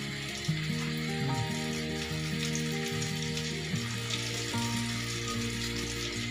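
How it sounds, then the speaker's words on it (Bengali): Beef tikia kebabs frying in a pan produce a steady, low hiss of sizzling oil, with soft sustained tones running underneath and no voices. "একে একে আমি সবগুলো ভেজে নিয়েছি"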